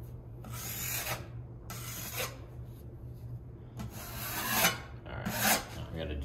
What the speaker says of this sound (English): I'm just gonna scrape all that excess off and work it back into the hole that I was working on before.